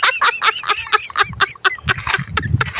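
A bird caught from its nest gives a rapid series of loud, harsh honking squawks at close range, each call repeated in quick succession with scuffling noise underneath.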